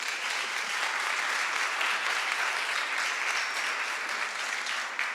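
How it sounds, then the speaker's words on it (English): Steady, full applause from an audience for a speaker at a social media breakfast event, continuous and even for several seconds with no talking over it. "let's give Mara a round of applause"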